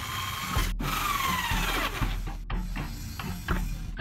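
A power drill fitted with a hole saw cuts through a plastic bucket for a hydroponics build, a steady whirring grind running throughout with brief breaks as the bit catches, close and fairly loud, with no talk.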